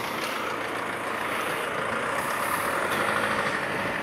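A city bus, route 20 in Hulst, runs its engine with a steady, close diesel rumble and broadband hiss throughout, with no talk over it.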